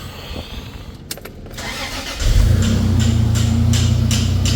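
A freshly rebuilt 5VZ V6 truck engine cranks briefly, then fires and settles into a steady, loud idle with a deep rumble that continues to the end.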